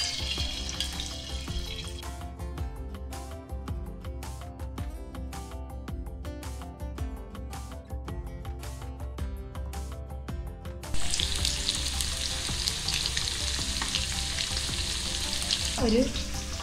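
Chicken pieces dropped one by one into hot oil for chili chicken: a loud, continuous close-up sizzle that swells into a harsher, denser hiss partway through, with no voices.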